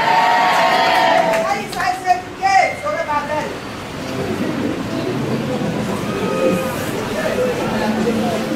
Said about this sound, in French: Dis amen très fort.